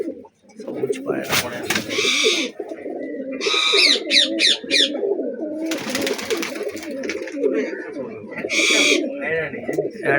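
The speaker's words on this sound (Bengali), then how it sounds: "এই পাঞ্জাবি পায়রাও আছে" Punjabi pigeons coo repeatedly in a loft, a near, overlapping warble of low throaty calls broken by a few brief fluttering bursts.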